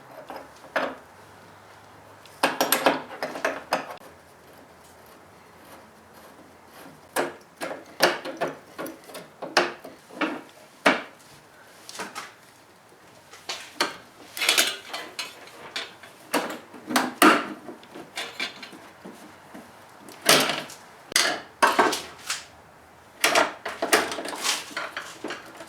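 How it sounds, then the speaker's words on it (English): Flare nut wrench working a brake line fitting on a 1995 Toyota Tercel, heard as scattered metallic clicks, scrapes and clanks of tool on fitting in irregular bursts, fairly close, with no talking. "I'm gonna need a flare nut wrench for this."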